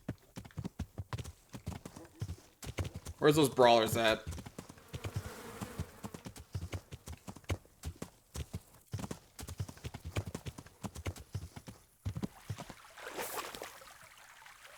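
A horse's hooves clip-clop in a steady rhythm in the medieval game Kingdom Come: Deliverance, with buzzing insects and a brief whinny, while someone speaks over the gameplay.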